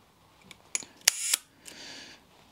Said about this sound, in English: I always like to just do a test fire of the shutter, just to make sure that the aperture and everything right.